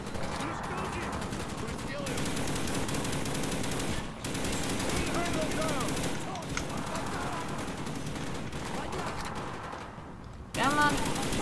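Machine gun fire in the video game Black Ops 1 rattles in long, dense bursts that run almost without pause, with brief breaks and a sharp final burst, and a player talks over it.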